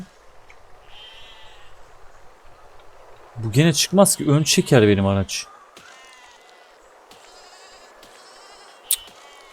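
Sheep bleat in the building game BeSiege, a few short bleats scattered through the background while someone speaks loudly over them in the middle.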